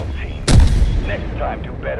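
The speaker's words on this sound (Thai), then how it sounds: "จรวดยิงเข้ามา" Rocket strike in the shooter game Delta Force: a single sharp, loud blast with a broadband rumbling tail, preceded and followed by faint game ambience.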